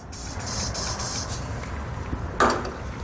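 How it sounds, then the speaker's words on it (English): A steady hiss of aerosol spray lubricant into holes under a Chevrolet truck bed, held for a couple of seconds, then a brief louder spurt near the end; close and fairly loud with no voices. "I'm going to be taking a spray lubricant and spraying those down in those holes"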